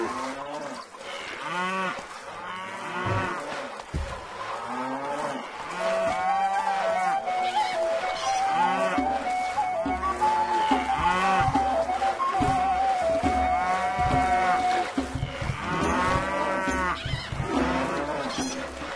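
Cattle mooing in the Stronghold video game, repeated lowing calls overlapping one another across the whole stretch, loud and close over a background of game sound, with no speech.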